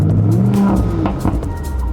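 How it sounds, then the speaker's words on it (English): A powerful Audi RS5 Avant engine revs close by, a steady loud throaty roar holding for a couple of seconds with a slight rise and dip in pitch. "We have a really powerful engine"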